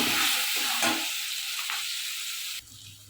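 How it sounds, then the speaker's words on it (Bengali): Tomato pieces hiss loudly as they hit hot oil in a pan with cabbage, a bright sizzle with a few stirring scrapes that fades to a quieter fry after two and a half seconds. "কয়েক টুকরো টমেটো দেবো, দিয়ে ভালো করে নাড়াচাড়া করে দেবো।"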